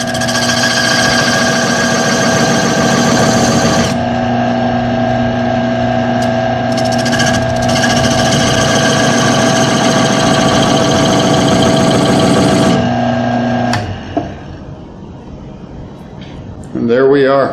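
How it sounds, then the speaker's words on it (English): A woodturning lathe hums loudly as a parting tool squares off a wooden box, a steady motor drone with a high tonal whine and rough cutting noise that winds down near the end, followed by a brief clatter. "I'm going to take my parting tool."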